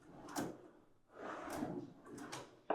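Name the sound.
Salice drawer slide click when drawer closes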